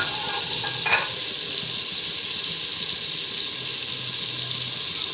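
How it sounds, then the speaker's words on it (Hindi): Potato pieces fry in ghee and spice masala, giving a loud, steady, even sizzle throughout, with one brief clink early on. "अभी हम इसमें आलू ऐड करेंगे जो हमने छोटे टुकड़े में काट लिए थे, और इसी मसाले में इनको भी भूनेंगे"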